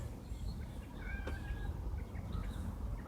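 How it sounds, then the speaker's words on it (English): A house cat gives a single short, faint meow midway through, set against a quiet indoor room hum with no talking. "He's kind of getting scared by my cat meowing."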